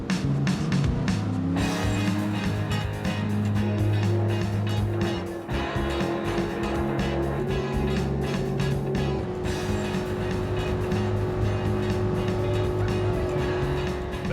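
A stock car with an LS1 V8 engine roars continuously on an oval circle track, revving and shifting pitch up and down as it laps, loud and close with occasional tire noise.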